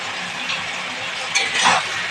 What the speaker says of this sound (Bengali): চিনিটা একটু নেড়ে নিই